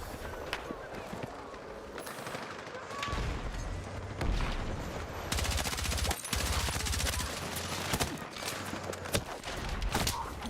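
Bursts of automatic and single-shot gunfire from a Battlefield 6 multiplayer match, with sharp cracks and a heavy rolling rattle through the middle and end, under a player's voice talking.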